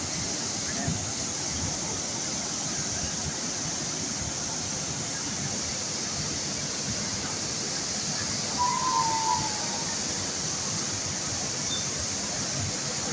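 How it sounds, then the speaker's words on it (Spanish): El Meco waterfall in the Huasteca Potosina roars as a steady, broad rush of falling water, heard continuously from nearby with no clear talking. "La gran cascada del Meco."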